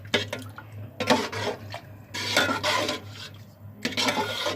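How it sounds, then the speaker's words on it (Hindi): Metal spoon scraping and stirring sevai with milk in a pan, a series of raspy rubbing strokes with pauses between them, close and fairly clear over a low steady hum. "अब हम इसको चम्मच की मदद से हिलाएंगे"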